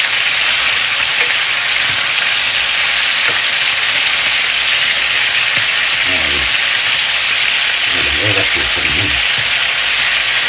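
Pork cheeks frying in a pan of oil give off a steady, loud sizzle that hisses on without pause, with faint clinks and stirring noises rising through it.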